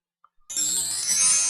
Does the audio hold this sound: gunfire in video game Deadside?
no